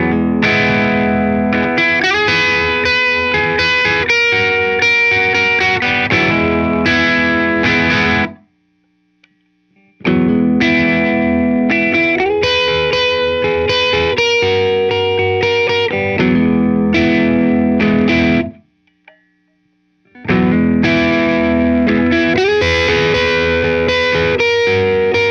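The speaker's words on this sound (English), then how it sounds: "let's go ahead and hear those with just a little bit of drive." Electric guitar, a Gibson SG Special with light overdrive, plays three strummed passages, each ringing out then stopping, separated by short silences.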